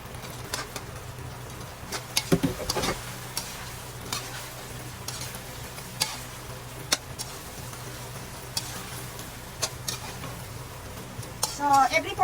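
Chicken breast stirred into sauce in a pan over low heat for a Chinese recipe, with a low steady simmering hiss, scattered utensil scrapes and clinks against the pan, and no talking.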